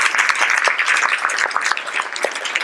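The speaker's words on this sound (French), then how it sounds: "Alors, Anatole Khelif, on l'applaudit." Lively audience applause at a talk event on mathematics and origins, a loud close mass of clapping hands with crisp individual claps and no voices over it.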